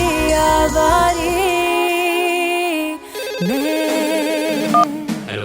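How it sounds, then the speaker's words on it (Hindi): Mobile phone ringtone playing a loud melodic electronic tune, sustained tones shifting between phrases with a brief dip midway, heard clearly and alone without talking. "सर पाटिल का फोन है"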